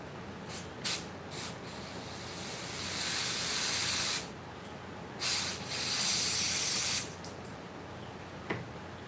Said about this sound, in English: Let me shoot a little carburetor cleaner through it.